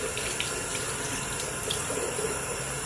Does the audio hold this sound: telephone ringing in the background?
no